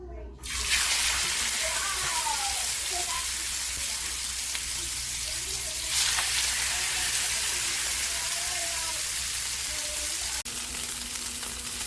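Salmon fillets fry in hot olive oil in a pan with a loud, steady sizzle that runs the whole time, plus a few soft pan knocks and faint talk beneath it.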